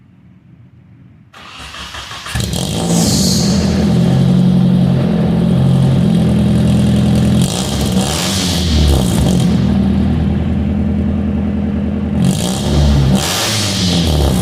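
A car engine cranks and fires after a brief quiet moment, then revs hard and loud for several seconds with repeated throttle blips and a rough mechanical clatter underneath.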